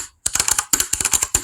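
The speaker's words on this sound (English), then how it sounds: "add typing sound to our videos using Capcut" Rapid keyboard typing added as an effect, a quick burst of crisp, close clicks in an uneven rhythm after a brief silence.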